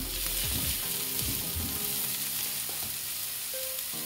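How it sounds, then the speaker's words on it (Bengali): Yellow capsicum fries in a pan for restaurant-style paneer Manchurian, a steady close sizzle with a few stirring knocks near the start, then continuing evenly. "এবার এটাকে ফ্রাই করব। এই যেভাবে ফ্রাই করলাম এইভাবেই আরও ফ্রাই করব কিছুক্ষণ।"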